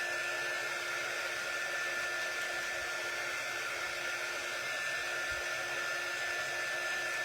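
A hair dryer blows steadily on a craft project, a constant close, broadband whooshing roar with no change in pitch or level throughout and no talking.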